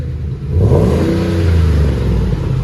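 A 2009 Ford F-150 5.4L Triton V8 with Flowmaster Super HP2 dual exhaust revs up and holds a smooth, deep rumble, loud and close, with no talking.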